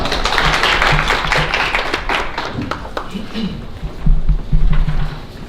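Audience clapping at a panel discussion on webtoon piracy, a broad wash of hands in a conference hall, steady and moderately loud with a few stronger bursts toward the end, murmured voices underneath.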